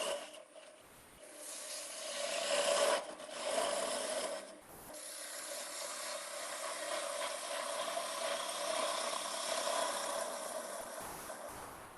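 A roughing gouge cutting a wood spindle on a lathe, giving a steady, continuous scraping and rasping whir that swells and dips as the cut moves along, with brief breaks.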